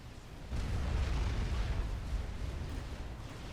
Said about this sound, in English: In the middle, we've got an artillery versus TAC missile war.